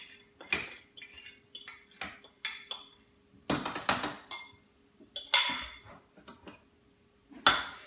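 A spoon clinks and scrapes repeatedly against a small cup while Budwig cream is served, a series of sharp, close metallic taps separated by brief pauses.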